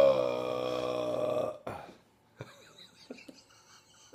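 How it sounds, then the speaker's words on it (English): A long, loud, voiced burp with a deep, pitched drone that cuts off, followed by quiet breaths and small clicks. "Speak during your burp."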